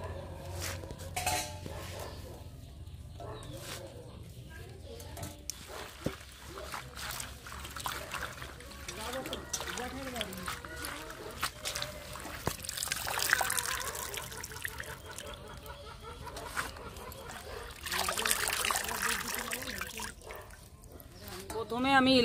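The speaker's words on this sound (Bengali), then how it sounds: "আমি এদিকে শাকগুলো ভালো করে ধুয়ে নেব।" Leafy greens being washed by hand in a home kitchen, with water trickling and splashing and dishes and utensils clinking against a metal bowl in uneven bursts, close by and moderately loud.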